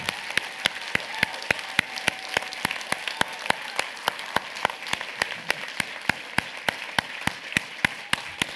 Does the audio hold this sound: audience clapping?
yes